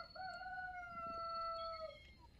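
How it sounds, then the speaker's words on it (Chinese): A neighbour's rooster crows once in a long, drawn-out call, faint and a little distant, with no other sounds nearby. "这才几点？ 这鸡都在叫唤，这八点半。"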